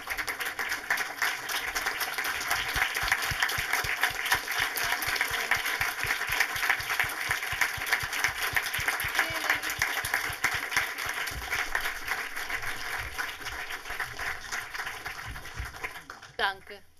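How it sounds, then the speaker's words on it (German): Long stretch of audience applause greeting guests at a film discussion, dense continuous clapping from a seated crowd that holds steady, then tapers and stops near the end, with a few voices audible underneath. "Ihr Applaus, jawohl."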